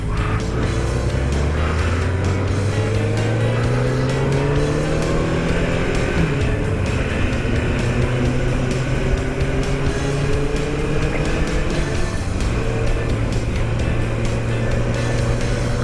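A Honda CBR motorcycle ridden on a family trip to Phillip Island, its engine roaring loud and steady throughout with rising and falling pitch as the rider works through the gears.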